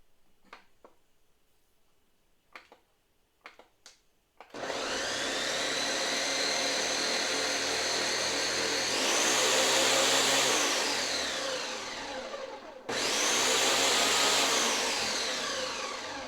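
A Ninja blender purees cauliflower: after a few light clicks and knocks, a loud, close motor roar starts and runs steadily, briefly dipping before surging again.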